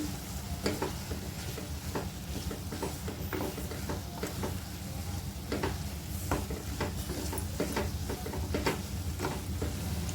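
Spices being stirred and mixed into tomato rice in a pan, with steady scraping and clinking strokes over a continuous soft sizzle, close and even throughout with no talking.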